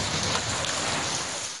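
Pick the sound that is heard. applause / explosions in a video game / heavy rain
heavy rain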